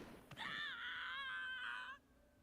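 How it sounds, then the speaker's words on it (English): A male character in the Code Realize video game lets out a single sustained, anguished scream lasting over a second, loud and close, after a brief sharp sound, then fading to quiet. "Delacroix screams as the gunshots continue."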